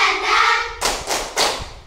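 A classroom group performs the rhythmic tepuk semangat clapping chant, with several sharp, loud clap bursts in quick succession following a brief sustained voiced tone at the start.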